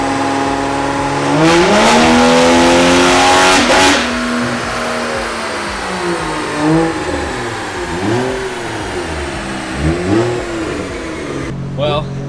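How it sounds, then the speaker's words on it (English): A Toyota Soarer with a 1JZ engine revs hard on a dyno, the loud engine tone climbing, dropping and surging again in waves, with people talking over it. "This thing sounds scary from outside the car, especially when it downshifts"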